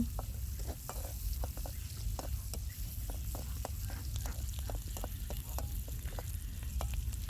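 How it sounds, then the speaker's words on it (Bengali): Chopped onion and green chili sizzle steadily in hot oil with dried red chili while a spatula stirs them, scraping the pan with irregular clicks. A continuous close frying hiss runs throughout, with no talking. "এরপরে পেঁয়াজ কুচি এবং কাঁচামরিচ দিয়ে দেব কিছুক্ষণ নাড়াচাড়া করবো"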